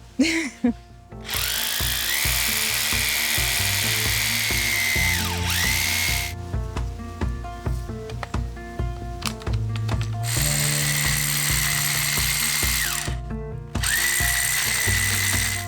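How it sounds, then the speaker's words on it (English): A power drill whirs in long loud bursts, stopping and restarting several times, with ratcheting clicks and mechanical rattling between runs. "I'm gonna need the bigger drill, I think."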